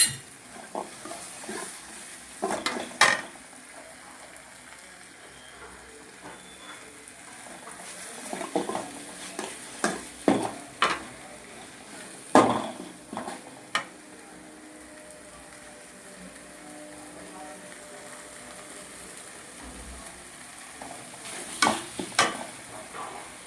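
Ginger garlic paste sizzles in a pan for paneer curry, a soft continuous frying hiss broken by repeated sharp scrapes and clinks of a spoon stirring against the pan.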